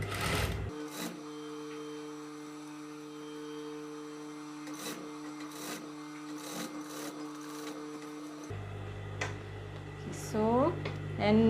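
A sewing machine stitches a fabric waistband with a steady mechanical whir and hum, broken by a few clicks. Near the end the motor stops and handling noises and light rustling follow.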